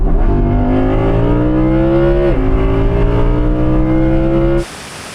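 A new Audi RS6 and an Audi R8 accelerate hard in a rolling half-mile drag race from 50 mph in automatic comfort mode: a loud, steady engine roar climbs in pitch, drops briefly at a gear change, then rises again before cutting off abruptly.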